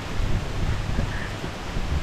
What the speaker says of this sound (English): Wow, it's windy, huh?